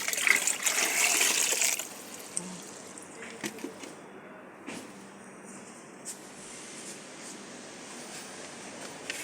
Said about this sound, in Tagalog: Yan ang tubig. May tubig dito kami.